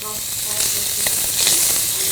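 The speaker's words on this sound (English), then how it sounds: "You see that my bacon is sizzling." Bacon sizzling in a pan, a continuous bright, crackling hiss with scattered small pops and spits, steady and close throughout.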